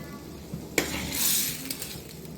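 Vegetables cook in a pan during dhokla preparation, with a soft sizzle swelling mid-way, a sharp clink of a utensil against the pan, and light stirring scrapes at close range.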